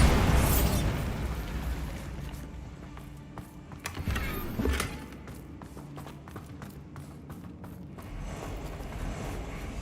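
A Bombarda explosion spell goes off in a video game, a loud burst with a booming tail near the start, followed by further softer bursts and crackling pops over steady game ambience.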